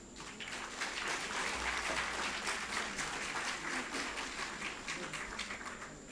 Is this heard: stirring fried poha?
no